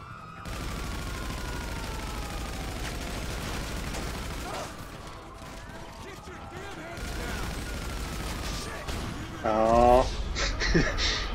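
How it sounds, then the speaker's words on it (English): Rapid gunfire bursts crackle through a video game police chase alongside a droning car engine, the shots sustained and fairly loud, with a sharper, louder volley near the end. "Shotguns are annoying."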